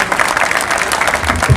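Dense, loud applause from a comedy poetry show audience, a continuous wash of clapping close by without pauses.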